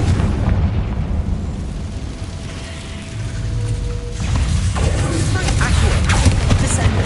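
Fire-spell explosions and magical combat effects from the Hogwarts video game sound as loud booms and crackling bursts over a dense, layered game soundscape, swelling louder in the second half.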